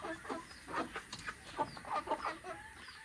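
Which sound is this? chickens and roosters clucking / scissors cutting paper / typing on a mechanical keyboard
chickens and roosters clucking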